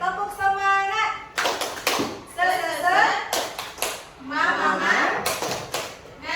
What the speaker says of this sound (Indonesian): Boleh kita tepuk semangat sekali Ibu?